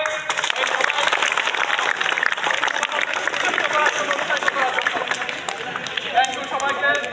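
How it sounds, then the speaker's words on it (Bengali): Loud applause from an audience at a polytechnic exam results announcement, dense rapid clapping sustained throughout with voices talking over it. "জোরে করতালি হবে"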